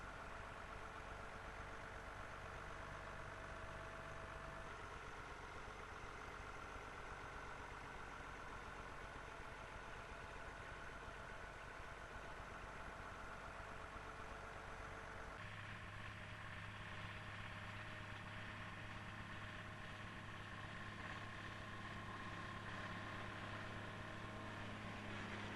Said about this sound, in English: this 1004 tractor, which loads the trailer from this rotting heap of sugar beet.